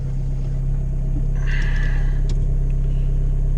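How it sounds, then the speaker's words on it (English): A VW Polo 6N with a 1.9 diesel engine idles and backs out in reverse, a steady low droning rumble throughout with a brief higher whine partway, loud and close with no talking. "You have to hold it in reverse. Just back out."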